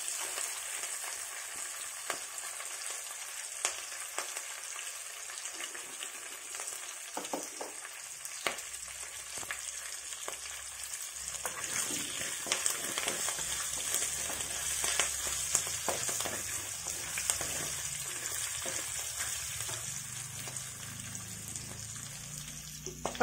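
Cashews fry in oil in a pan with a soft, continuous crackling sizzle and scattered pops, growing a little busier partway through; steady and close, with no talking.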